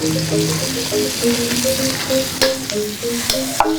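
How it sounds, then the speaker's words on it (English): Garlic and galangal fry in oil, a continuous close sizzle broken by stirring scrapes and occasional utensil knocks, with no one talking. "Next, add garlic along with galangal."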